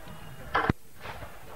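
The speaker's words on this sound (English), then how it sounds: "open your mouth slightly if you see a cannon just about to go off" A single cannon fires at an English Civil War reenactment of a Sealed Knot battle in Mote Park, Maidstone, a sharp muffled boom heard at a distance over outdoor background noise.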